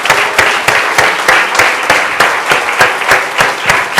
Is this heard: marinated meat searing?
no